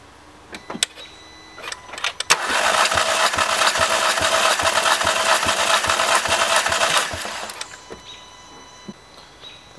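VW Mk5 GTI engine cranking over on the starter during a compression test, a loud rapid whirring chug lasting about five seconds, preceded and followed by a few quiet clicks and taps, no talking.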